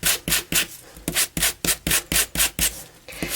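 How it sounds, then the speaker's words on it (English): Sanding block rubbing over stamped paper card with a white core, about a dozen brisk, even back-and-forth strokes close up, scratchy and rhythmic with no voices. "So now I can go in with my sander and sand"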